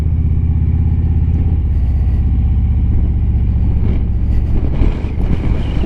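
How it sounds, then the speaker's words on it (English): Strong wintery wind buffets a vehicle crossing Porter's Pass in the Alps, a loud continuous roar mixed with low engine rumble that swells slightly toward the end, with no talking. "Whoa, the wind."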